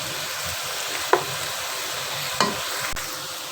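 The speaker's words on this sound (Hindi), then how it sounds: "इसमें चम्मच हिलाते रहें कि ये सारी इक्वली फ्राई हो जाए" Onions frying in a pan with a steady hiss, stirred with a spoon, with two distinct scraping clinks of the spoon and a faint tap, close and continuous, no talking.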